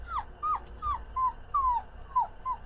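A person's voice imitates a dog, giving about seven short, whining yips in a steady rhythm, each one sliding down in pitch, close and fairly loud.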